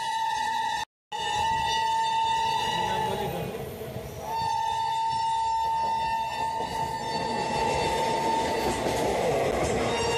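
Netaji Express train from Howrah to Prayagraj rumbles along the rails with steady wheel noise and a sustained high squeal, heard from inside a coach, loud and continuous apart from a momentary dropout near the start.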